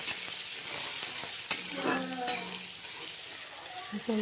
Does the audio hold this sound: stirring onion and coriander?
yes